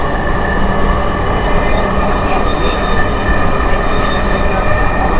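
A Dhaka metro train hums and rumbles steadily while moving, with a constant whine and a loud, even rush of motion noise.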